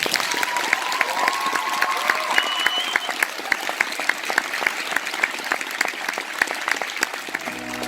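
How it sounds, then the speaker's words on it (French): A room full of people applauds steadily at a Hiro Mashima interview event in France, the clapping dense and sustained with a little cheering mixed in, and a voice breaks in briefly at the very end. "On peut l'applaudir pour ça."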